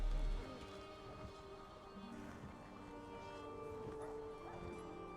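A pet pup in the Elder Scrolls Online video game barks and whimpers faintly beneath steady game music, with small yips scattered through the mix.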